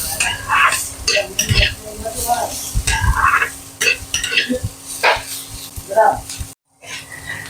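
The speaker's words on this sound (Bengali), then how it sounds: "ক্যাপসিকামটাকে যেহেতু অতটা ভাজতে হয় না ওটা হালকা সিদ্ধ হয়ে যায়" Chopped capsicum is stir-fried for chowmein, with sizzling and metal utensil clatter against the pan beneath a person talking, ending in a brief cut to silence.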